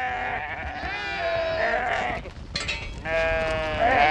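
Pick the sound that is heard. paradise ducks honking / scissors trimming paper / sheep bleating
sheep bleating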